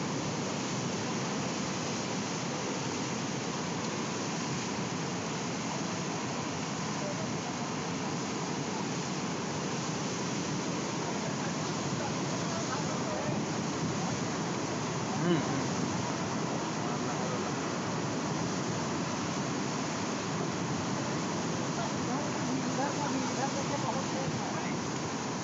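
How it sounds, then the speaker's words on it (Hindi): Rising floodwater rushes and flows in a steady, broadband roar, continuous and moderately loud with little change throughout. "पानी आ ही रहा है, अभी पानी बढ़ ही रहा है"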